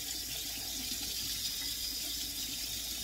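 Zucchini noodles held in a colander get rinsed under a running tap: a steady, broad rush of water splashing continuously at close range, with no voices.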